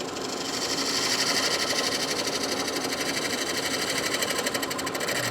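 Skew chisel slicing wood on a lathe at about 45 degrees to the grain, throwing curly shavings: a steady, loud whirring hiss with a fast rhythmic flutter running unbroken throughout.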